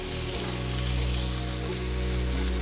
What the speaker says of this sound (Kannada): ಆಯಿಲ್ ಹಾಕಿದ್ರೆ ಈ ಥರ ನಾವು ಫ್ರೈ ಮಾಡಿದರೆ ಬೇಗ ಚೌಳಿಕಾಯಿ ಬೇಗ ಫ್ರೈ ಆಗುತ್ತೆ